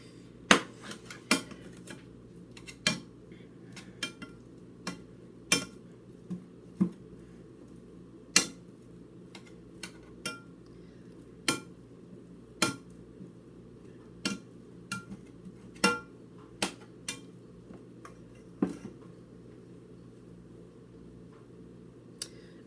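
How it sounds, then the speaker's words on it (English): Sweet potatoes mashed in a pot with a utensil instead of a potato masher, sharp metallic clanks against the pot every second or so over a soft, steady kitchen hum. "let's continue mashing these sweet potatoes"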